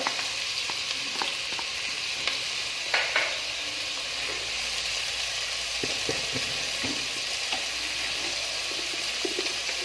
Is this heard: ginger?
yes